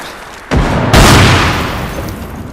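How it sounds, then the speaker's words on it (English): A grenade blasts in the Bellum combat game as a sudden heavy boom, followed by a louder, rumbling explosion that decays slowly, close and loud with no talk during the blast. "Grenade!"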